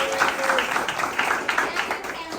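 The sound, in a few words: audience applause at a Fantasmic panel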